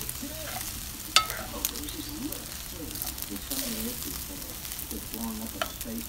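Fried rice sizzles in a pan with soy sauce, a little oil and bacon grease, a steady crackling hiss with stirring scrapes and a sharp clank near the start, while a person talks over it.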